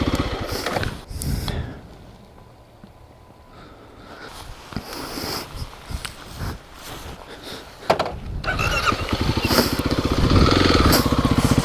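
A Kawasaki KLX300 dirt bike engine rumbles and revs in a suburban area, rising and falling with louder throttle bursts toward the end, close and alone.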